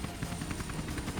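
A helicopter in a Tony Hawk skateboarding video game gives a fast, steady rotor chop, a brief continuous whir-and-thump pattern heard alone at moderate level.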